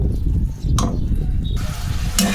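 Spices with winter vegetables stirred and fried in a pan for a sabzi bhaji: a loud, close, continuous sizzle with brief scraping stir strokes.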